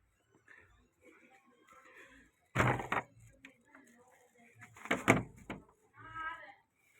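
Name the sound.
door being opened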